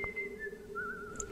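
Someone whistles a wavering tune in the video game BioShock, a clear, moderately near melody over a low steady hum, with no talk.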